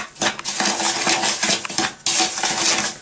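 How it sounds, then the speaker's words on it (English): A spoon scrapes and clinks against a bowl in quick, uneven strokes as ingredients are stirred into sugar, close up, with no talking. "So I'm going to mix that in with the sugar."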